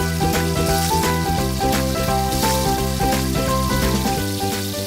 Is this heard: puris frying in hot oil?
yes